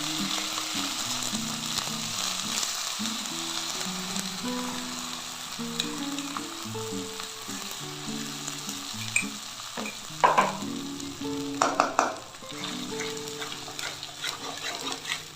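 A ground spice paste stirred into eggplant frying in a pan, heard as a continuous low sizzle with steady scraping strokes and a few sharper clatters near the end, and no talking.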